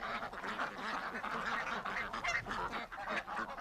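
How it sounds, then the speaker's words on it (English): A flock of geese honks continuously nearby, overlapping calls mixed with duck quacks, busy and fairly close with no talking. "Lots of ducks and geese live here."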